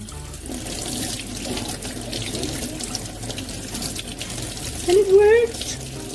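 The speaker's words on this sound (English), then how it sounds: "I'm going to put it under the water, wash it" Tap water runs steadily over a repainted doll while it is washed under the faucet, a continuous close splash with a short spoken phrase near the end.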